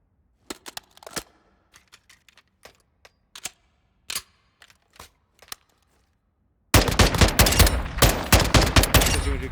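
Automatic rifle in Call of Duty: Modern Warfare II fires a loud, sustained full-auto burst near the end, following a stretch of scattered single shots and faint clicks.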